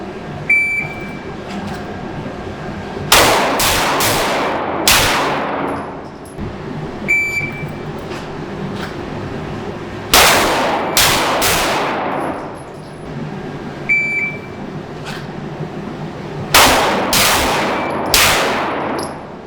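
Handgun shots crack loudly and close on an outdoor range during a timed shooting qualification, fired in quick pairs three times, with a short electronic timer tone before each string and brief quiet gaps between.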